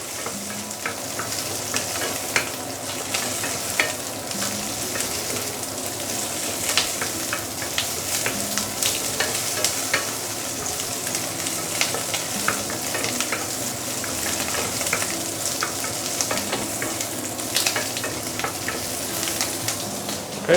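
Prawns sizzle and crackle steadily in a hot wok over medium-high heat for Malaysian street-style fried noodles, with scraping and stirring clatters scattered throughout at close range and no voices.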